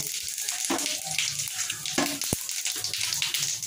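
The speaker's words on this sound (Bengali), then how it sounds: "তেলের মধ্যে শুকনো লঙ্কা, গোটা এলাচ, জিরা ফোড়ন" Dried red chillies, whole cardamom and cumin seeds tempering in hot oil, a dense continuous crackling sizzle, close and fairly loud, with a couple of sharper pops and clicks.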